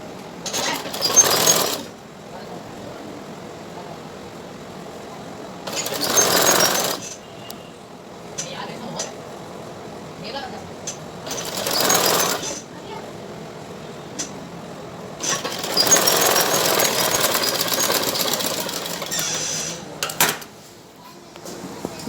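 A sewing machine stitches a blouse belt in several bursts of fast, rhythmic whirring, the longest running around five seconds, separated by quieter handling sounds and pauses.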